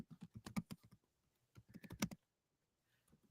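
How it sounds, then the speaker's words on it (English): Fingers type quickly on a computer keyboard, two close bursts of rapid clicking keystrokes separated by a short pause, then a few faint taps at the end, with no talking. "Are you typing it in there?"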